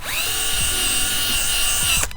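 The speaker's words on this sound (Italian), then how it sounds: "con il trapano, attaccato questa spazzola col fil di ferro, vado a pulire tutti i bordi in questo modo" A power drill whirs steadily at close range, its high pitched motor whine holding level, with a wire brush scrubbing and rasping against olive wood edges underneath.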